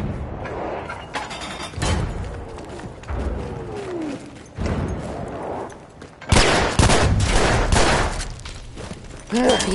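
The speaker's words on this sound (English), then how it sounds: "The enemies are being halted by our artillery barrage." Battlefield 1 battle with heavy artillery barrage and gunfire, booming blasts and bursts of shots across the scene, growing louder and denser toward the end, with a voice talking at times.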